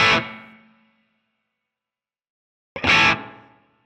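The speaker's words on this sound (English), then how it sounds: "We have a spring reverb inside of Tonex." Two separate distorted electric guitar chords ring out through the Tonex spring reverb effect, each struck hard and decaying into a fading splashy tail, with a long gap of silence between them.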